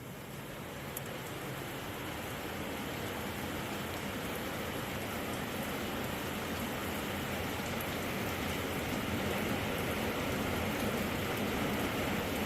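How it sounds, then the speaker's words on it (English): Steady rainfall pours down outdoors for the whole stretch, a dense, even hiss of drops on surfaces with no breaks and no voices. "But thank God it's raining, y'all."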